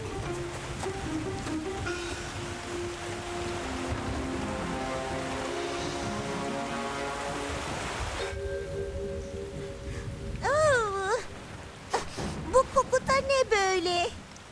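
Cartoon rain falling: a steady hissing patter under light music for several seconds, then the rain fades back as animated voices speak.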